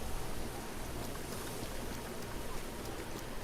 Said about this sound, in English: In 50 seconds, the rain will stop